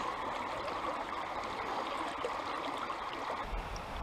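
Mountain torrent where trout live, steady broadband rush of fast-flowing water running continuously and fairly close, with no talk.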